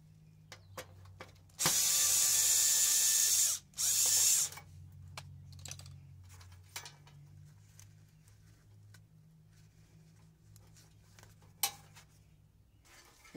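A power tool whirs in two loud bursts of about two seconds each while removing a small aluminum piece from an A/C unit being scrapped, followed by scattered faint clicks and handling noises.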